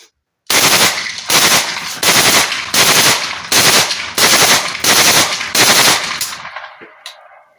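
A rapid, even series of about eight loud AK rifle gunshots fired close by, each report ringing briefly before the next.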